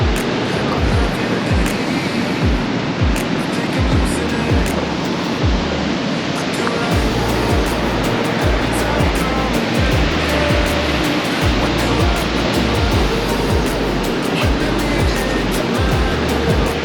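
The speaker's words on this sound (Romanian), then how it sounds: "Cascada Cambadaga nu este cea mai mare, dar este probabil cea mai spectaculoasă din Guinea" Kambadaga waterfall in Guinea roaring in a dense, steady wash of noise throughout, with low rhythmic thumps beneath it.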